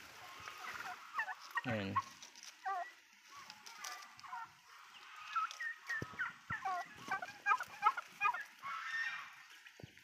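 Poultry squabbling over dominance in a backyard flock, with scattered squawks, gobbling calls and flapping scuffles at close range, mixed with a voice.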